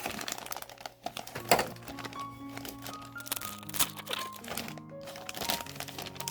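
Plastic vinyl wrapping on a Sonic bundle pack crinkles and crackles as it is torn open, in irregular sharp bursts with quieter pauses, close to the microphone.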